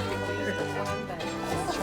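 Backyard hens cluck in a busy chorus close by, with overlapping warbling calls and someone talking over the flock.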